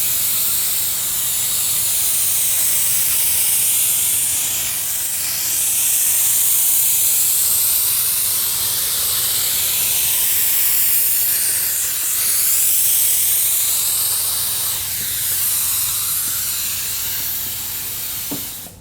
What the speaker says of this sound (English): just a slow, steady spray all the way across